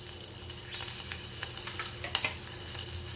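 Curry leaves and green chillies crackle and spit in hot oil, a close, steady frying hiss dotted with sharp popping bursts, with no voices.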